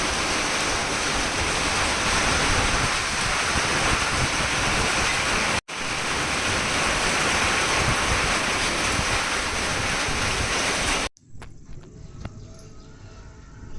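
Strong wind roars and buffets the microphone during a storm with rain and lightning, a long, loud, continuous rush, cutting out briefly midway and dropping away near the end.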